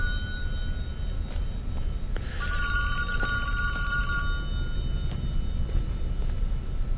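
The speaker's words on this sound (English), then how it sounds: "and then we'll answer that phone" A telephone rings inside the virtual cabin of the Friday the 13th video game, a bright electronic bell tone sounding in bursts over steady low background noise, no talking.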